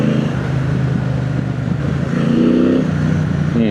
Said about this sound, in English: But I love the engine. Lovely. And sound is amazing for the modern bike.